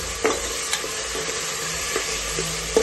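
A paste of ginger, garlic and green chilli sizzles and fries in oil in a pan, with a steady broad hiss and a few soft stirring scrapes, close by and with no talking.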